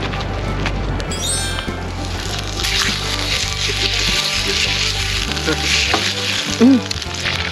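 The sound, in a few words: steak sizzling over a suddenly flaring campfire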